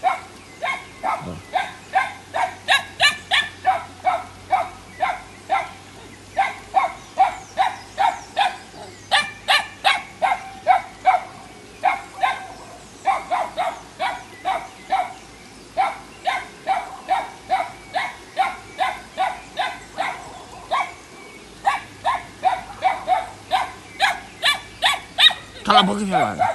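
Several dogs bark over and over beside a home pond where someone is fishing, loud and close, in rapid bursts with brief pauses, while a person talks now and then.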